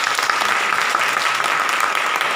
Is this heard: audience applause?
yes